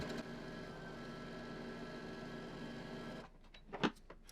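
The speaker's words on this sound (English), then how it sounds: "I'm going to sew 2 pieces of a knit fabric together" A Brother 1034D serger stitches two pieces of knit fabric with black thread. Its motor whirs steadily for about three seconds, then stops, followed by a few faint mechanical clicks.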